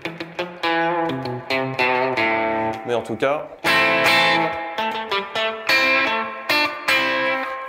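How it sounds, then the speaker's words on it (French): An electric guitar played through a Boss RV5 pedal on its spring setting gives ringing notes and chords with a reverb tail, bright and loud throughout, while someone speaks briefly over the playing at the start. "j'utilise une Boss RV5 et j'ai mis le réglage Spring qui va émuler une reverb à ressort"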